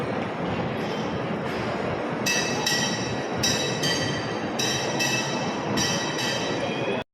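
A train rumbles past with a dense continuous roar, punctuated by rhythmic metallic clacks of wheels over rail joints, loud and close.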